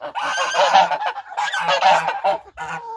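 Domestic geese on a farm in deep frost give loud, close, nasal honks in three bursts of overlapping calls with short gaps between them.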